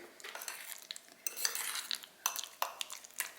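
Banana bread ingredients stirred together in a bowl: soft, irregular scraping and clinking of a utensil against the bowl, close and fairly quiet, in short uneven strokes.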